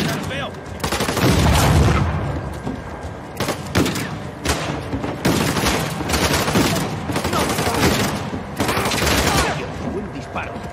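Bursts of rapid gunfire and booming shots in Uncharted: The Lost Legacy, repeated throughout, loud and close, with voices talking in the background.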